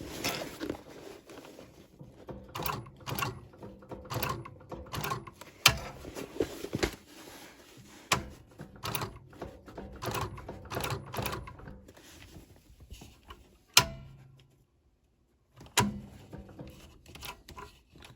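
A sewing machine stitching during the repair of a Louis Vuitton bag, running in short rapid bursts of mechanical rattling with pauses, a few sharp clicks between runs, close and moderately loud.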